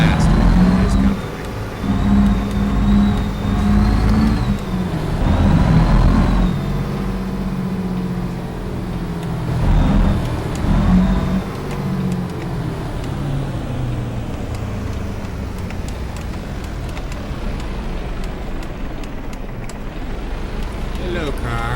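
The engine of a truck in the video game American Truck Simulator hums and rises as it drives, with a steady motor drone under near-continuous talking.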